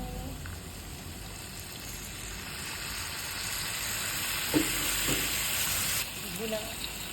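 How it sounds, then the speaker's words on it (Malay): Onion, chili and garlic sizzle steadily in a pan with curry leaves, a loud broad hiss that carries throughout, with a few stirring clinks before milk is added and the frying briefly softens. "bawang, cili api, bawang putih tadi tumis dengan daun kari. Okey, kacau-kacau. Okey, bila bawang dah layu, masukkan susu."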